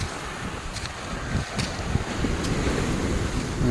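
Ocean waves from high surf wash and churn continuously against a seawall amid gusty wind buffeting the microphone, a rough, steady roar with no voices.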